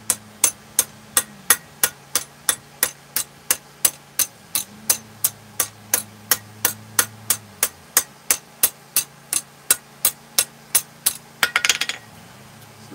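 Rhythmic hammer blows planishing hot steel on an anvil while forging a grill tool spoon, about thirty sharp, evenly spaced ringing strikes, loud and close, with a brief rougher scrape near the end and no talk.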